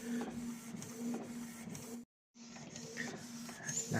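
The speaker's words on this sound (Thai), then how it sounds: "พิมพ์เตอร์กำลังดึงเกียร์แล้ว" A printer running off a two-sided business card makes rhythmic mechanical feeding and clicking, close and fairly quiet, with a brief silent pause midway before the motion resumes.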